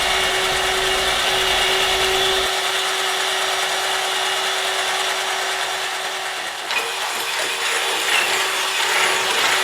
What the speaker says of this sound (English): So just drilling the hole.